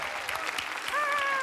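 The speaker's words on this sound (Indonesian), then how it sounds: "tepuk tangan untuk silakan Mbak Asri" Studio audience clapping on a televised Indonesian singing competition show as a panelist is welcomed, brief and lively, partly under a talking voice, with a whistled or tonal sweep near the end.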